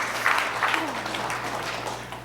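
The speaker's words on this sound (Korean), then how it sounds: "우리 박수로 축복해 주시기 바랍니다" Audience clapping in a church gathering during a Korean congregation's testimony program: a steady wash of applause held at moderate volume throughout, over a low room hum.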